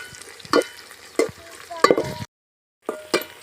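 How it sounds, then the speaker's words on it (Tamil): Stirring ingredients with curry leaves as they fry in oil for a Sankara fish curry (meen kuzhambu): four scraping strokes with a steady sizzle, then a brief silence and one more close stroke. "இதை நல்லா கிளறி விட்டுக்கலாம் எண்ணெயில் நல்லா வதங்கி வரட்டும்"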